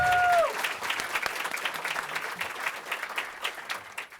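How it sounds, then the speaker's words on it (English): Congressional breakfast audience breaks into applause, a broad wash of clapping from a large crowd that starts right after a brief tone and slowly thins toward the end. "Everybody show her a round of applause."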